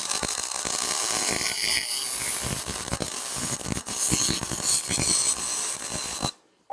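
Electric arc welding a front wheel bearing race on a 1977 VW Bus camper, a steady loud crackling buzz running continuously for about six seconds, then cutting off abruptly into near silence.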